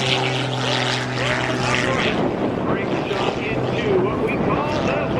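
Oracle Challenger 3 propeller aerobatic plane flown at the 2010 Dayton Airshow, its engine droning loud and steady throughout with shifting pitch as it maneuvers, while an announcer talks over a public address system.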